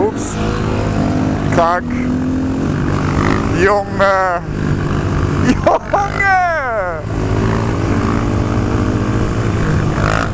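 A motorcycle engine revs hard several times, pitch sweeping up and down in loud surges, while a voice calls out briefly over it.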